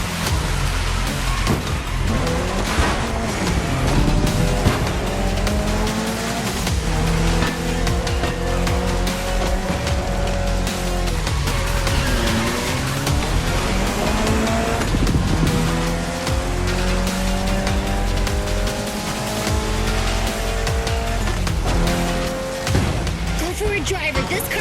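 A race car in The Crew Motorfest video game drives with a continuous engine roar as its pitch climbs and drops through gear shifts, loud and sustained with rushing wind noise throughout.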